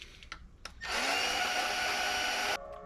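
A die grinder bit chucked in a drill grinds the inner edge of a metal rear hub bushing on a Toyota Altezza SXE10, a loud, close, steady high whine lasting nearly two seconds before cutting off.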